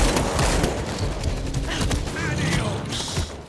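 Automated turret fire in World War Z, a busy, continuous rattle of gunfire and mechanical clatter amid game sounds over a dense, steady background.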